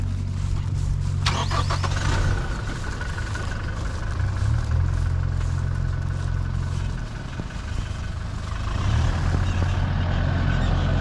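A Toyota Hilux pickup crawls off-road in two-wheel drive, its engine droning low and steady with surging revs as it works against the terrain, close and continuous throughout.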